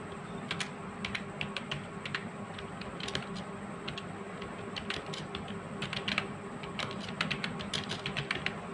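Fingers type HTML code on a computer keyboard: a steady, close stream of light, rapid key clicks with occasional louder taps, continuing throughout with no voice.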